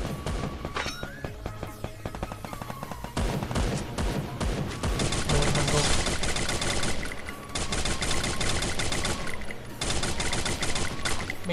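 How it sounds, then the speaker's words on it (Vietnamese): Rapid bursts of automatic and single gunfire crackle in a Free Fire battle royale firefight in an open field, dense and loud with short pauses between volleys. "Bắn nhau giữa đồng không mông quạnh luôn."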